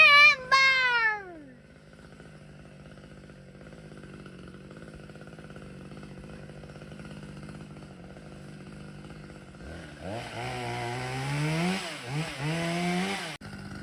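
A chainsaw cutting down a Christmas tree idles at a low, steady drone, then revs up loudly with rising and falling pitch toward the end after a brief high whine at the start.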